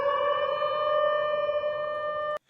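A wailing air raid siren holds a steady, eerie tone at moderate distance, then cuts off abruptly.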